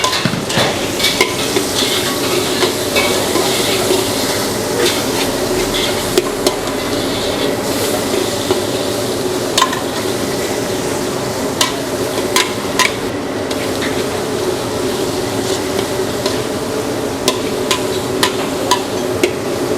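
Garlic and onion sizzle steadily in a hot pan while a utensil stirs them, scraping and knocking against the metal in irregular taps over a continuous frying hiss.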